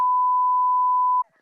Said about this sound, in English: 5:05 beep,